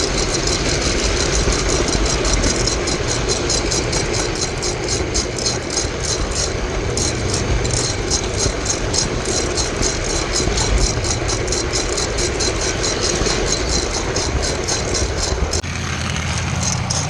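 A steady mechanical running sound with a rapid, regular clicking rhythm, a model train circling its track, continuous and fairly loud throughout.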